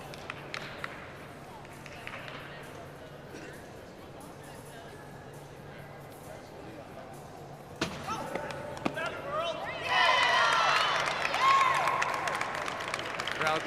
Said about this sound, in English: Crowd like that effort from Lipp.